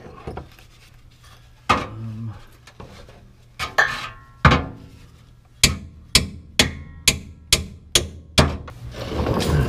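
Repeated hammer blows on a metal fender flap bracket of a Miata widebody, a few scattered strikes followed by a steady run of sharp metallic hits, close and loud with no talking.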